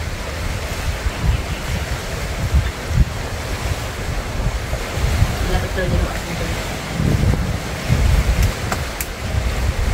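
Strong wind buffets the microphone in gusty, rumbling bursts over a constant roar, and a person speaks briefly underneath.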